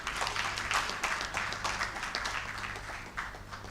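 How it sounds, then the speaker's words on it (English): Audience applause at an evening engineering conference event, a dense steady patter of many hands clapping throughout a large hall, with a low hum underneath. "Another round of applause for the Chairman Board of Fellow"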